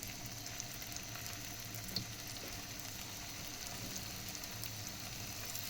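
Potato kebabs shallow frying in oil in a pan over low heat give a steady, even sizzle and crackle, with faint occasional pops and no talking.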